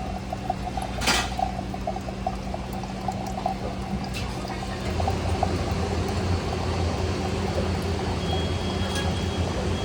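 Water runs steadily into a Bunn coffee maker in a continuous gurgling stream, getting a little louder partway through, with a short sharp clank near the start.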